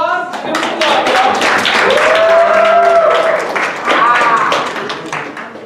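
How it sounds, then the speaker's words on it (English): A school class applauds student presenters at a voting rights project, a burst of clapping with voices cheering and talking over it, fading slightly toward the end. "Give them a applause, y'all."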